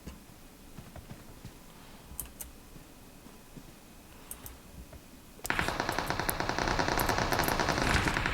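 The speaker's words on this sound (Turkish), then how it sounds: "biraz çatışma sesleri" Automatic weapon fire in PUBG Mobile, a fast, steady burst of loud shots that erupts after several seconds of quiet, distant-sounding pops and clicks and keeps rattling until the end.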